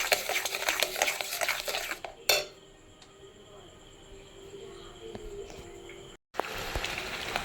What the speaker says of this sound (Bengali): চিনি দিয়ে এটাকে আমি একটু ভালো করে জাল দিয়ে নেব